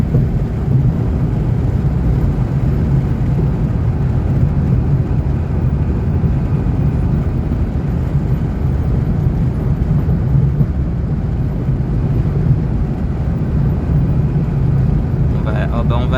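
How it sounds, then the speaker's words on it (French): A Peugeot 106 engine heard from inside the car while driving in fifth gear, a constant low drone with road and wind noise, steady throughout, with a brief brighter sound near the end. "Faut se référer surtout au bruit du moteur en fait."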